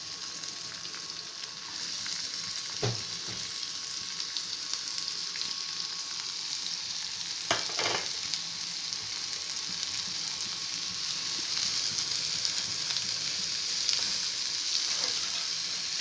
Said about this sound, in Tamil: நறுக்கி வச்சுருக்க பெரிய வெங்காயம் சின்ன சின்னதாக நறுக்கின வெங்காயத்தை போட்டு